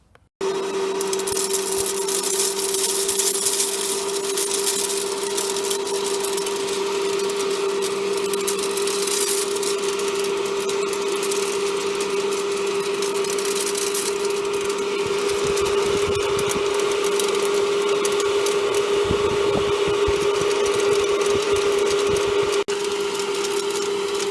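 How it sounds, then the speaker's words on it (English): A homemade coffee bean roaster with dimmer-switch heat control roasts a batch of beans, giving a steady, close mechanical whirr with a constant motor hum and faint rattling that runs unbroken throughout. "This is my homemade coffee bean roaster with a dimmer switch for the heat control."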